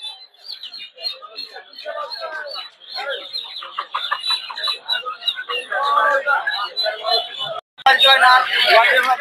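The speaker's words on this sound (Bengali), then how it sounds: "এগুলো হচ্ছে টাইগার মুরগি" Tiger breed chickens cluck and call continuously at a busy duck, chicken and quail market in Putia, Narsingdi, close and fairly loud, with people talking throughout and a brief gap before a denser burst of clucking.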